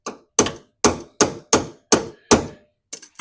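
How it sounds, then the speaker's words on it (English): A hammer strikes a tie rod lock washer on a VS Commodore, seven loud sharp metallic blows at an even pace, close and alone, then a quick pair of lighter taps. "going to use a persuasive hammer here"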